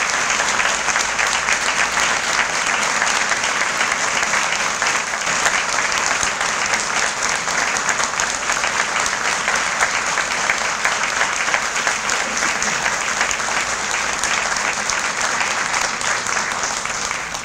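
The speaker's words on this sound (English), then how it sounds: "big round of applause for the Hunter High School Chorus" An audience at a 50th anniversary reception gives the Hunter High School Chorus a long round of applause, dense steady clapping from a full room that holds evenly throughout.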